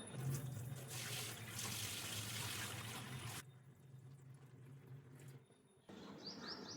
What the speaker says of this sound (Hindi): इस तरह से धीरे धीरे इसका पानी सारा निकाल के फेंक देंगे